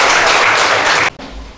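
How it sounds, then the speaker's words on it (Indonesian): A classroom of students in an Indonesian school bursts into lively applause, a loud dense burst of many clapping hands close by that lasts about a second and then cuts off sharply. "berikan tepuk tangan yang meriah"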